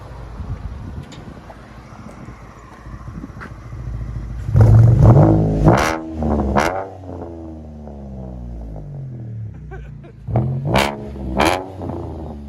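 A 2015 Chevy Camaro V6 with dual exhaust and Vibrant bottle resonators idles with a low steady burble, then revs up loudly several times with rising and falling sweeps, close to the tailpipes with some wind noise.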